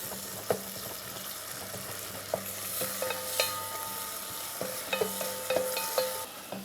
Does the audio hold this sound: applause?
no